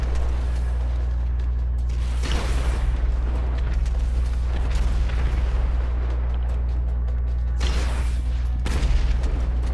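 Gunshots and heavy blasts burst out in Grand Theft Auto V, several loud, booming volleys in clusters over a constant low rumble.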